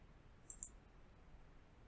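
Two quick, faint computer mouse clicks in close succession, then quiet room tone.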